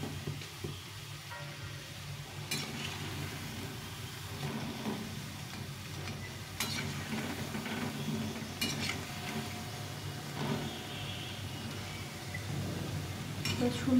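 Mung dal fritters frying in a pan of oil, a steady soft sizzle broken by occasional clinks of a spoon against the pan, close and fairly quiet, with a voice talking now and then.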